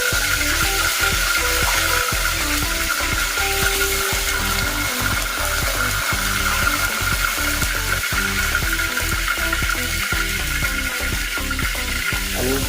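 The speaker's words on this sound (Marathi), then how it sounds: "तेल थोडं गरम झाल्यानंतर मोहरी जिरं कढीपत्ता टाकला" Mustard seeds, cumin and curry leaves crackle and sizzle steadily in hot oil, loud and close, with dense popping clicks running throughout and no talking.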